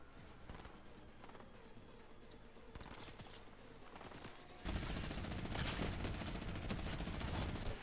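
Sniper and other gunfire in a Fortnite squad match, quiet scattered shots at first, then a sudden loud burst of sustained rapid fire that continues to the end.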